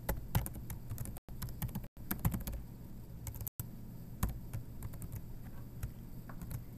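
Steady, fast typing of code on a computer keyboard, with dense clicky keystrokes running throughout and a couple of very short pauses, fairly close and with no voices.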